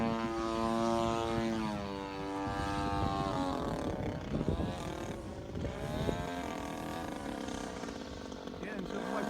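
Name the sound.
RC YAK54 3D model airplane flying overhead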